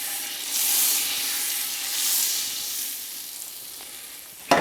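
Onions for minestrone soup sizzle steadily in a hot pan, a broad close hiss that swells and eases across the stretch, ending in a sudden louder burst.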